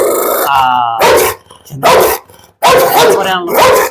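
A dog barks and growls in loud, close bursts separated by short pauses, snarling rumbles mixed with sharp barks, with a voice talking between outbursts.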